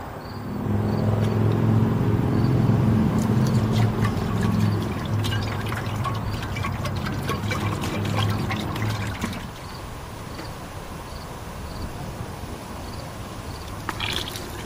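Liquid is poured into a bath for soaking a rusty cast iron skillet, a steady splashing pour close by that thins into a softer trickle and then a lighter, continuous wash.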